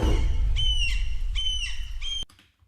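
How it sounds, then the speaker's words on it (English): Seagulls squawk energetically in a video game trailer soundscape, several loud, harsh cries in quick succession over low rumbling ambience, ending abruptly. "The seagulls are a bit energetic, but I think it's a good thing."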